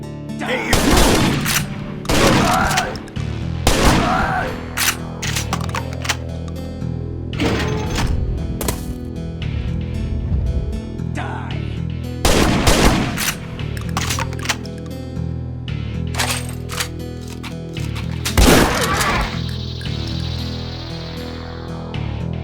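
Bursts of gunfire from Rippers in the post-apocalyptic shooter Ashes 2063: loud, scattered shots and short volleys repeating across the whole stretch, with no talking.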